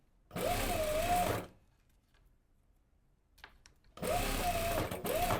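Sewing machine running two steady bursts on a blouse seam finishing at the armhole, ending with backstitching, close and clear with a silent gap and a few small clicks between.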